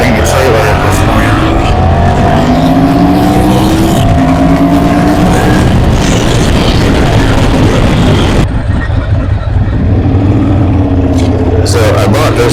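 A 2009 Ducati Monster 1100 S motorcycle on the road gives a loud, continuous engine drone whose pitch climbs and falls through gear changes, with rushing wind, close to the rider.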